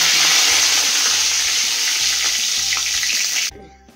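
Cumin seeds and two bay leaves sizzling loudly in hot oil, a dense, bright crackle that runs steadily and then cuts off abruptly near the end.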